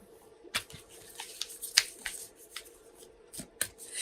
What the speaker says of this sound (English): now I'm shuffling our Sacred Traveler Oracle cards